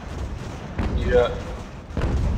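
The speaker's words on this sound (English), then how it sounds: "Nice volley into them." Cannon volley from sailing warships in a naval battle game, heard as a few dull booms and thuds, one near the start and another toward the end, under someone talking.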